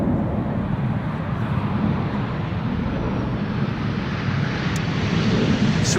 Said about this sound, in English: I'm hearing something passing by overhead, but the sun is blocking my view. It is a 747.